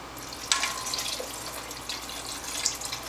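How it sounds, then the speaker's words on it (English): Water from a cup poured into a pan of spaghetti sauce, a splashing, trickling stream with a few sharper splashes, close and moderately loud, with no talk. "Mix it up and add a little less than 2 cups of water."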